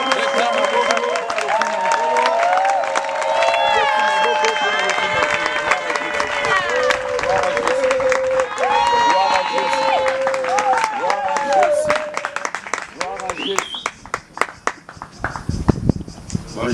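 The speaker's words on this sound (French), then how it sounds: "On va acclamer pour la gloire de Jésus." A church congregation cheering and applauding in praise of Jesus: loud continuous clapping and crowd shouts, with singing voices and exclamations woven through, fading to sparser claps near the end.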